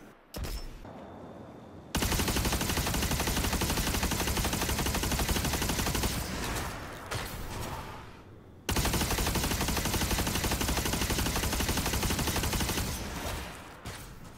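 Necrochasm, an exotic auto rifle in Destiny 2, fires in two long sustained bursts of rapid automatic fire, loud and dense, separated by a short pause with brief quieter gaps at the start and ends.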